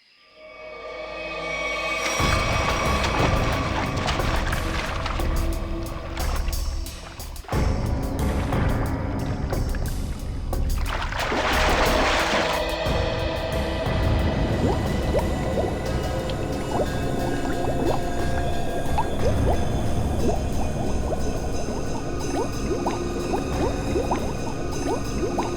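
People go into water, and a loud, continuous wash of churning, bubbling water and splashing carries on throughout without any clear speech.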